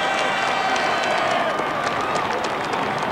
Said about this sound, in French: Voilà, l'ovation. Tout le monde s'applaudit